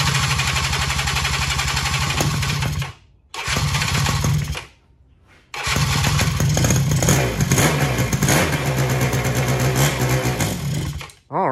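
An old two-stroke 90 quad, just repaired after sitting for years, idles loudly close by with a rapid, buzzing putter. It cuts out twice briefly before catching again and running steadily.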